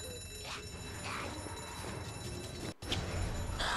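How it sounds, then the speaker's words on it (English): A rigged alarm rings continuously in the zombie game ZombiU, a steady bell-like tone that goes on with a brief cutout near the end, fairly quiet, with no talking over it. "Shit, it was rigged to the alarm."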